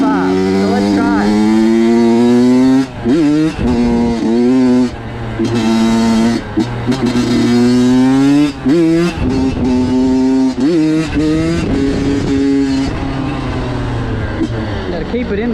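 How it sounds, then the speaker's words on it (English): A two-stroke 85cc dirt bike engine revs hard and wavers up and down during wheelie practice, loud and close, with rising and falling pitch sweeps and brief throttle drops. "I'm not very good at riding a wheelie on a two-stroke, especially in 85"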